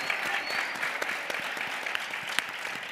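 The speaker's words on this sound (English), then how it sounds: "Let's give her a round of applause." A hall audience claps steadily for someone speaker at a professional leadership event, the dense patter of many hands sustained and fairly close, with no talk over it.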